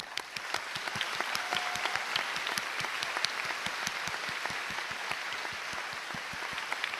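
A steady round of audience applause fills the hall at a Gran Turismo World Series esports event in Tokyo, dense overlapping clapping with sharp individual claps standing out, sustained evenly throughout with no talking.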